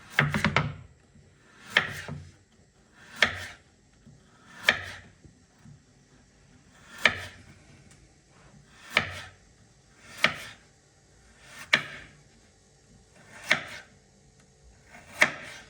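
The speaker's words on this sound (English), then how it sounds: "So you're going to have to cut your carrots a certain way. You have to cut them long ways to make it very long, like this." A knife cuts carrots lengthwise on a wooden board for plov, each stroke landing as a sharp thunk. About ten chops fall at a slow, steady pace every second or two, close and distinct with no voices.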